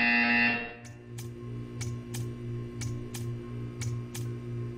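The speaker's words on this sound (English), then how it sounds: "You will hear a buzzer. When you hear the buzzer, stare at the art." A buzzing electronic tone fades in, then a series of sharp, evenly spaced beeps ring out over a steady low hum, about nine pulses in all, from the video game Portal 2.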